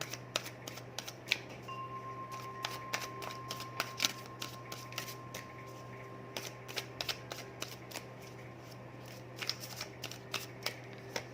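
Tarot cards shuffled and handled, a steady run of crisp riffling clicks and flicks, close and fairly quiet over a low background hum, with no talking.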